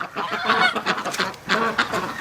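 A goose on a farm on a cold winter morning gives a series of close, harsh honks in a rapid uneven rhythm, fairly loud and heard alone.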